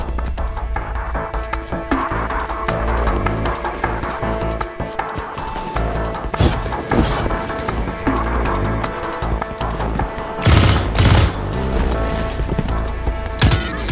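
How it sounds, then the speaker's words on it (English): Gunfire in the video game Destiny 2, a steady clatter of shots and mechanical combat noise under game music, with a louder burst of blasts near the end. "Failsafe, they're shooting at me!"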